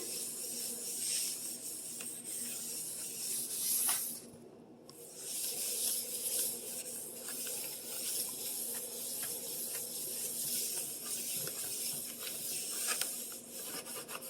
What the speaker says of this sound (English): scrub my countertop with hot soapy water